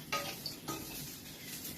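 Ingredients for a Thai red chili paste, including garlic, are stirred and toasted in a hot wok. The result is faint scraping and clinks with a soft sizzle over a couple of seconds, with no voices.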